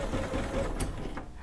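A sewing machine stitching a quilt top, a brief close mechanical whirring with rapid ratcheting needle clatter at a steady pace.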